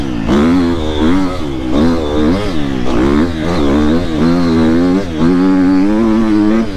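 A Triumph enduro motorcycle engine revs up and down repeatedly, its pitch rising and falling in quick surges, loud and close throughout, with a slight dip in pull at mid-revs.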